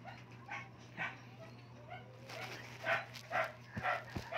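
A neighbor's dog barks repeatedly at a distance, short yips and woofs coming in irregular bursts over a low steady hum in a home kitchen.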